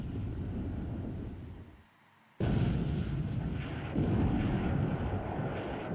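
Naval 6-inch shell gunfire in a Pacific war game, a sustained roaring barrage that drops out briefly, then bursts back loud and dense with a second surge partway through.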